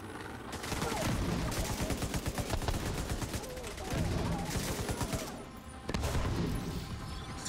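Dense gunfire and heavy explosions from grenades in The Division 2, a loud, continuous fusillade with rapid bursts and booming blasts that carry on throughout, with brief lulls before the barrage resumes.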